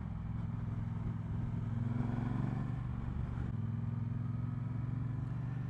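A Triumph Bonneville Bobber motorcycle being ridden on a test ride, its engine droning steadily with a slight swell in revs partway through, close and continuous with no talk.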